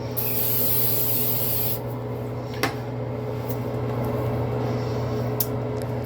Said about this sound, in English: next stop is the bathroom to spray some more hairspray on my hair